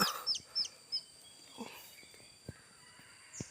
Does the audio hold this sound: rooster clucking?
yes